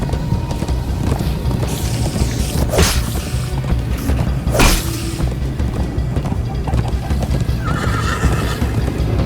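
A horse gallops in the Minecraft: Story Mode video game, with rhythmic hoofbeats, two loud whinnies and a few thumping impacts over a busy game soundtrack.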